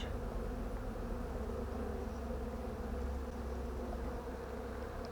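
Steady, dense buzzing of many honeybees at an open hive infested with varroa mites, close and continuous, with a low hum underneath and no voices.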